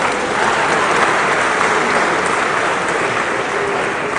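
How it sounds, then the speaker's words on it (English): Loud, dense clapping from a large audience at a university anniversary launch celebration, a continuous wash of applause with no pauses, close and full throughout. "Clap, clap, clap"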